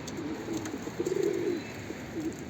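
Pigeons cooing restlessly at feeding time in a loft, soft low throaty coos rising and falling close by, several birds overlapping, no talking.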